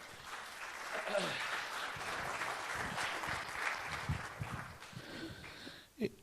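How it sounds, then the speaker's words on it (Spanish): A church congregation claps together after a closing prayer at a Spanish-language service, the dense applause moderately distant and steady, with a few voices mixed in before it fades out near the end. "Dele un aplauso al Señor."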